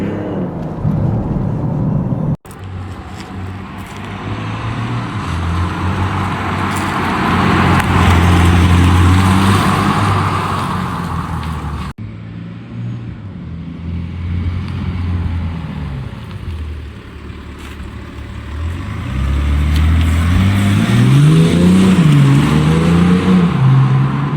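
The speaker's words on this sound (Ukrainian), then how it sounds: "заради яких варто жити і хочеться запускати цей дизельний двигун М50Д" A BMW X5 M50d with a 400-horsepower diesel engine accelerates, its steady, loud engine roar and road noise swelling and easing, with a rising, revving drone toward the end and no talking.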